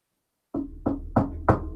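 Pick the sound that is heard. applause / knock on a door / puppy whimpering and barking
knock on a door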